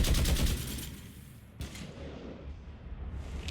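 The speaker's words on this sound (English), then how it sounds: "You want to stop shooting up my ship?" Rapid bursts of sci-fi gunfire in Mass Effect 3, a fast rattling volley at first, then scattered shots and booms amid combat noise.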